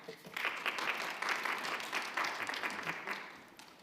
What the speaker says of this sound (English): Not every day I get an applause